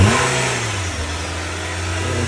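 A 2019 Nissan Sentra engine runs steadily up close after a jump start as the car is moved forward and backward, with a continuous mid-pitched drone and no voices.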